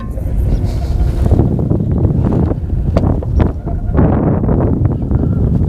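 Strong wind roars steadily outdoors at a cold riverside fishing spot in December, a loud continuous buffeting rush against the microphone with gusty surges and no talk.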